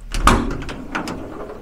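An uninsulated door, reportedly a plain sheet-metal or thin hardboard panel with no sound insulation, is shut during a sound insulation test, giving a sharp thud and rattle followed by a few lighter knocks.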